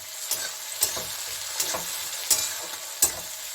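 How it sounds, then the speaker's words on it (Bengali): Ripe tomato and onions sizzle in a hot pan, with a stirring scrape every second or so over the steady frying hiss. "এটার সঙ্গে আমি যে পর্যন্ত কাঁচা গন্ধ না যাবে টমেটোটা, এই পর্যন্ত আমি একটু এর সঙ্গে ভেজে নেব"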